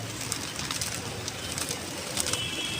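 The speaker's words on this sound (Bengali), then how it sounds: "এখানে সবসময়তেই পায়রা থাকে" Pigeons cooing softly amid a steady background hiss, with faint repeated calls close by.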